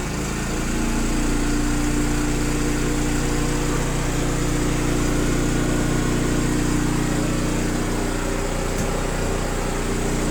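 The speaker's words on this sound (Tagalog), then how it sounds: "Dapat magkaka-power yung generator." Steady, loud drone of a PK4200 generator engine running under load with a pump connected, a continuous close engine hum with a constant low tone throughout, no talking.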